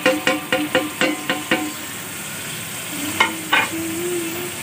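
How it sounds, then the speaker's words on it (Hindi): Green chilies, coriander and tomato cooking in a pan: a quick run of sharp stirring scrapes and taps, then a low, steady sizzle with a couple more stirs. "इसको डाल के भूनूंगी अब मैं थोड़ी"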